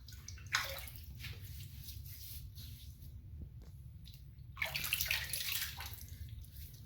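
Water splashes and sloshes at a sink or tub as a face is wetted before shaving, with two louder bursts of splashing near the start and near the end over steady running water, close and alone.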